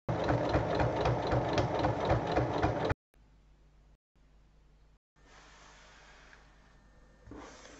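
Sewing machine topstitching along both sides of fabric pieces for a small handbag, running loud and steady for about three seconds before stopping, followed by quiet intermittent handling and faint background noise.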